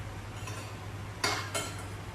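Instant noodles are stirred in a pan with metal utensils, giving soft scraping and two sharper clinks of metal on the pan over a low steady hum, with no talking.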